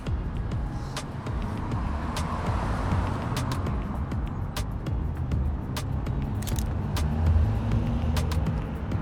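A car passes along a downtown Toronto street in winter, its engine and tyre noise a steady low rumble amid city traffic, punctuated by sharp clicks throughout.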